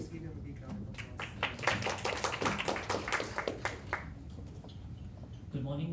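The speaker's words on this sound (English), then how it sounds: "Please give him a big round of applause." An audience at a university case presentation applauds with a few seconds of scattered, moderate clapping that builds and then fades, set against a quiet room.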